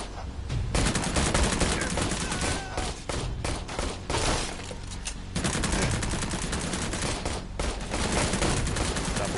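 Heavy automatic gunfire in the VR shooter Immortal Legacy on PSVR, dense sustained bursts rattling almost continuously for about nine seconds, with brief lulls and a faint voice occasionally beneath.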